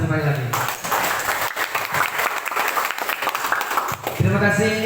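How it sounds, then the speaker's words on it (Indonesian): Audience applause at a tour guide training event at Ciletuh Geopark, a dense sustained clapping crowd lasting several seconds, with a voice speaking over it at the start and end. "Berikan tepuk tangan satu kali lagi"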